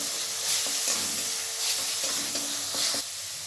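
Ginger garlic paste sizzles and is stirred in a hot pan for a prawn malai curry, with steady frying hiss and soft scraping strokes recurring about every second, close and continuous.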